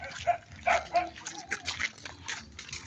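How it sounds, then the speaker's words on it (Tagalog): Several dogs bark in quick bursts, a series of sharp, fairly close yaps and woofs over faint background noise. "mga tatapang mga aso dito"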